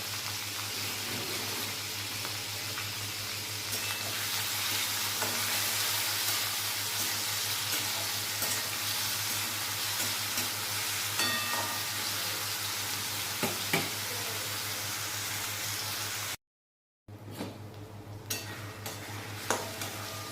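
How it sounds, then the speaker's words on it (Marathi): Finely chopped tomato with curry leaves sautéing in a pan for a Bengali-style brinjal curry, giving a steady close sizzle with occasional stirring scrapes and a brief drop to silence near the end. "बारीक चिरलेला टोमॅटो, टोमॅटो छान परतून घ्यायचा आहे।"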